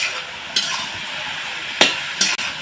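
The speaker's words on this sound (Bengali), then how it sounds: "কপিটা দিয়ে একটু নাড়াচাড়া করে নিব" Shredded cabbage being stirred in a pan, a few sharp spoon scrapes and clanks against the metal over a continuous close sizzle, with no talking.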